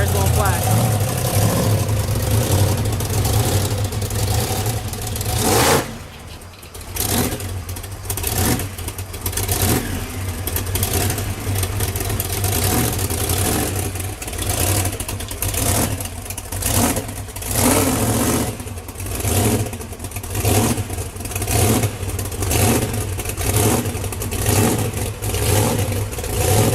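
A monster truck engine revving and roaring while driving, loud and continuous with repeated surges and pulsing throttle, briefly dipping before building again, with a voice occasionally heard over it.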